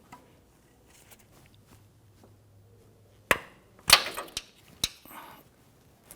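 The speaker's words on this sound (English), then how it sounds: "We're going to put our 14mm gear wrench on here. And we want to go ahead and loosen this bolt." A 14mm gear wrench loosening a starter bolt on a Nissan Frontier with a 4.0L V6 gives a few sharp metallic clicks and knocks, with one cluster midway, against an otherwise quiet background.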